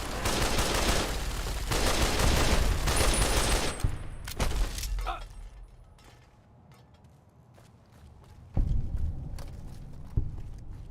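Rapid gunfire from a strong rifle in Fallout New Vegas, loud dense bursts for several seconds that fade to quiet, followed by a few scattered sharp single shots.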